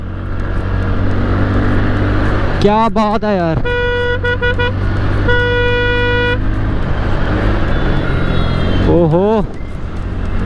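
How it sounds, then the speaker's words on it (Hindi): Busy highway traffic with a steady roar of engines and repeated horn honks, some long and sustained, passing close by; someone talks over it. "कितना ज़्यादा ट्रैफिक है भाई"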